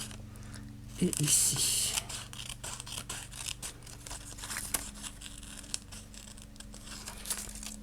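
Scissors cut pages from a magazine for a collage, with a brief close burst of snipping and rustling paper early on, then softer crinkling. Someone speaks a few words in French.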